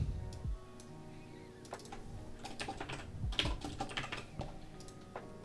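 Computer keyboard typing, a quick run of irregular key clicks with a few heavier keystrokes and pauses, close and fairly quiet, with no talk.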